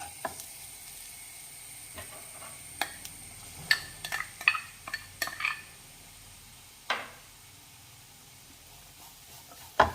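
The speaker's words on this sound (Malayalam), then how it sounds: "1 കപ്പ് തേങ്ങ എടുത്തിട്ടുണ്ട്. അതൊന്ന് വറുത്തെടുക്കണം. അതിന് ആ എണ്ണയിലേക്ക് ചേർക്കാം." Grated coconut roasting in hot coconut oil for a pineapple sweet curry gives a faint, steady sizzle. Sharp scrapes and clicks of stirring come scattered through it, clustered near the middle.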